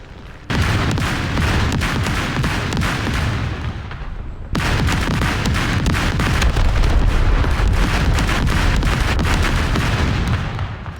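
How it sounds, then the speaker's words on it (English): Aircraft machine guns fire in a vehicle combat video game: dense, continuous loud gunfire with booming impacts runs almost the whole time, briefly cutting out near the middle before resuming just as heavily. "this aircraft has 1 machine gun in the front and I believe 1 machine gun in the back that I can fire"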